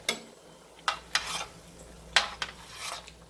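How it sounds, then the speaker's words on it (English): Homemade chili stirred in a pot, a spoon scraping and knocking against the pot in several uneven strokes with a faint simmer underneath, close and soft, with no talk. "Let's stir this up a little bit here."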